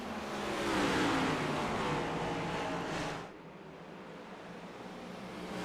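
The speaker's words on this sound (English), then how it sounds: "The cars are going to start getting a little louder as we go green here at North Wilkesboro." Sim racing stock cars at North Wilkesboro roar as a pack at the green flag, a dense loud engine wash that fades abruptly to a quieter distant drone partway through.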